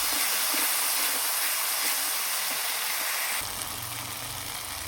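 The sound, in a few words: sautéing spice paste with garlic and ginger paste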